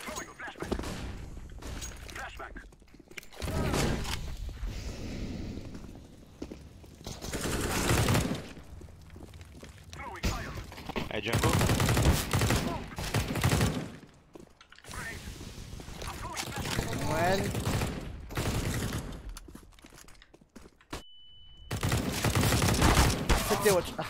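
Repeated bursts of gunfire from a competitive shooter game, Beretta in hand, crack out in loud volleys separated by short lulls, with a player talking between and over the shots.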